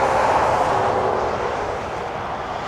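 A Zenith CH 701 Sky Jeep light aircraft drones steadily in flight during its first test flight, giving a continuous broadband engine and wind roar at moderate distance with no speech.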